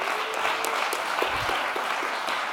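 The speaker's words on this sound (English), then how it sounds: "The winning team, let us warm them with a nice applause." Audience applause for a winning team at a conference closing ceremony, an even, continuous clatter of hands heard from within the room.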